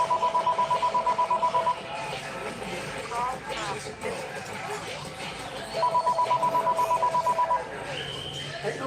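A telephone rings in two bursts of rapid trilling, the first at the start and the second after a few seconds, with voices and room noise filling the gap between them.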